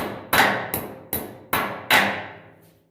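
Five sharp hammer blows drive a stud into a steel welding table, each a loud metallic strike with a short ringing decay, spaced evenly about every half second.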